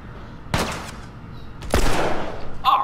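Gunshots from The Last of Us game ring out in two loud, sharp blasts about a second apart, each trailing a short decay, followed by a brief metallic clink near the end.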